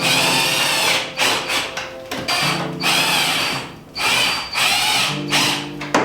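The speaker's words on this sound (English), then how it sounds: "We're just gonna use these self-tap screws to screw it in" Power drill driving self-tapping screws to fit a lip onto the front bumper of a 2023 Subaru WRX, heard as several short whirring bursts with brief pauses between them, loud and close.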